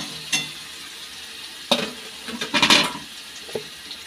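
Paneer frying in spiced masala in a pan, being stirred: soft sizzling with a few short scraping stir bursts, quiet and close, with no talking.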